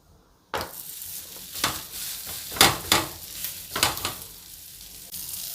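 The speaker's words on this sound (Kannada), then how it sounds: "ಹಂಚು ಕಾದಿದೆ ಈಗ ರೊಟ್ಟಿ ಬೇಯಿಸೋದು ಇಡೋಣ" Roti made from leftover rice set on a hot griddle, starting with a sudden sizzle that carries on as a steady hiss, with several close scraping and tapping sounds from a spatula.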